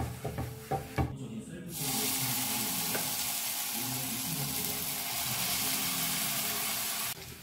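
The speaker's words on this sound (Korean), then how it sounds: "그다음 여기다가 이제 김치를 볶을 건데" Kimchi stir-fries in oil in a pan, giving a loud, steady sizzle for several seconds after a few brief clatters of the utensil at the start.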